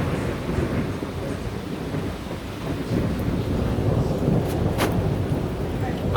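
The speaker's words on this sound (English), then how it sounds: "I'm hearing constant rumbling." Thunder rumbles continuously through a severe thunderstorm, a deep low roar that fills the whole stretch with rain and wind noise layered over it and a faint crackle near the end.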